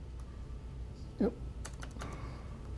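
A few soft computer keyboard keystrokes, faint and sparse, typed while entering a math function into Maple, with one brief louder bump and a low background hum.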